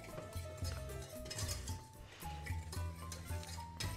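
A utensil stirs a cocoa and sugar mixture with sunflower oil and water in a pot on the stove, faint repeated scraping and clinking against the metal under low background music.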